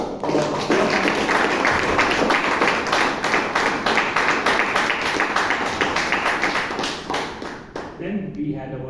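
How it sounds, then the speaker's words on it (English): Sustained applause from the audience at a Toastmasters club meeting in Bangalore, dense clapping filling the room for about eight seconds before thinning and fading out at the end. "another round of applause."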